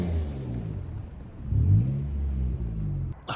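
Peugeot 107 city car, stood unused for a year, revving up close by: a rough low engine rumble that climbs and swells midway before easing back to a throaty idle.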